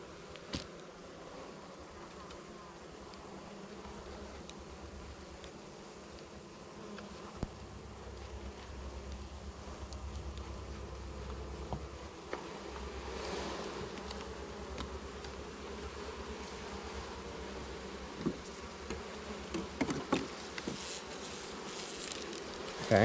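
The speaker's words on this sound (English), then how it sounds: "Try to stay calm, bees." Bees buzz steadily around a hive on a homestead, a low continuous drone at close range with occasional louder passes and faint rustling and tapping.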